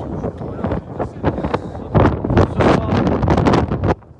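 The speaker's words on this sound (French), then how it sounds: "il y a beaucoup de vent" Strong wind buffets an outdoor microphone in the Paris region on an evening of police protest at Bobigny, France, a loud continuous roar with gusty surges that swell and fade over several seconds.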